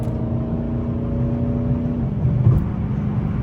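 A Dodge 392 Scat Pack accelerates hard at high speed on a highway, its engine a loud, sustained whirring roar from inside the car. The engine pitch holds steady and then shifts partway through.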